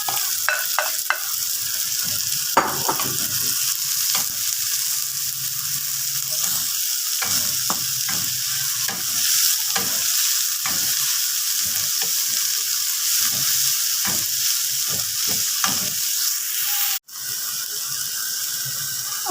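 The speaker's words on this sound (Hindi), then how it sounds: "तेल गरम होने के बाद अब इसमें हरी प्याज डाल देंगे।" Chopped green onions sizzle in hot oil while being stirred, a steady loud frying hiss with repeated scraping strokes throughout, briefly cutting out near the end; no talking.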